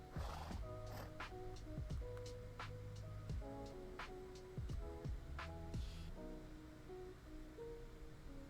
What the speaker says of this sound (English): there's another horse inside with gold armor